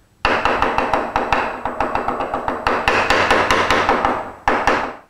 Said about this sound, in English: This is the way a sissy swings a hammer.